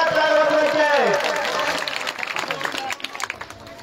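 A crowd applauds at a village temple donation announcement, loud clapping that starts dense after a spoken call and thins into scattered claps, with a voice heard at the start.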